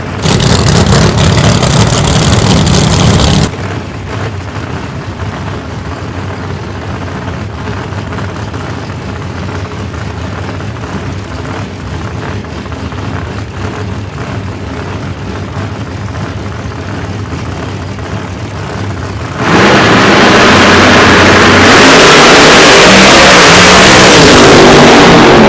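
A 950-cubic-inch Chevrolet-powered drag racing car at a drag strip launches with a sudden roaring burst, its engine loud and close, settling into a sustained distant drone before another thunderous surge swells up near the end.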